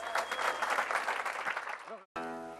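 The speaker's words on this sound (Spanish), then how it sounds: "Gracias, aplausos." A street crowd on Paseo Ahumada claps after a comedy act, a lively burst of applause that fades, followed after a short gap by a different tonal sound.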